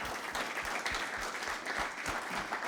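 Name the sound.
conference audience applause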